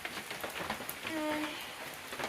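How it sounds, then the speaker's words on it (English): Steady rain pattering down on surfaces on the Appalachian Trail, a dense, even hiss of drops with no voices. "It's been raining all day."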